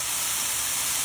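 Water hits a hot pan of cooking alugbati greens, and steam hisses loudly and evenly in one brief, close burst with no voices.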